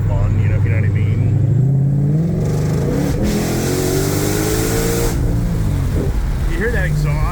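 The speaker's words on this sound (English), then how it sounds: "It's a car. I mean, it's just total exhaust blips on its own." Loud exhaust of a Ford Mustang GT500 blipping and revving while driving, engine note rising and falling in bursts close by, with someone talking over it.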